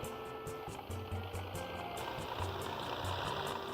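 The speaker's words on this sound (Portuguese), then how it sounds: "Aqui vemos as imagens do teste do motor Brasil, projetado e construído em Curitiba pelo tenente Dario Cavalcanti" Test run of the Brasil aircraft engine, designed and built in Curitiba by Lieutenant Dario Cavalcanti: a steady, close mechanical engine drone with a low rumbling hum and faint rhythmic pulsing, holding evenly throughout with no voices.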